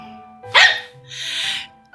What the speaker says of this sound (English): barked at them in a tiny voice